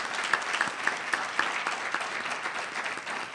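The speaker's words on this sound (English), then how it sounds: "I want to suggest a big round of applause for all the presenters" An audience at a public health symposium on the Zika virus applauds steadily, dense, even clapping filling the room for a few seconds with no speech over it.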